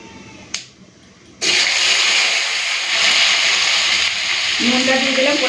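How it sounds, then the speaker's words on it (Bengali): Tomatoes hit hot oil in a pan tempered with dried red chillies and five-spice for tomato chutney, bursting into a loud, steady sizzle after a quiet start and a brief clink. "ভাজা ভাজা হয়ে গেছে, দিয়ে দেবো টমেটো।"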